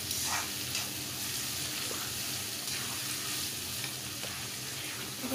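Onions and tomatoes sautéing in a pan, heard as a continuous close sizzle and hiss with faint stirring scrapes over it.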